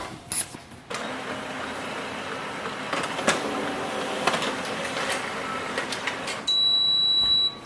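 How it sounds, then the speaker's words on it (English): A Canon imageCLASS LBP236dw laser printer runs a print job, giving a steady mechanical whir with scattered clicks and ticks, then a brief louder higher-pitched feed or eject at the end; no one speaks. "So that's our printer printing now."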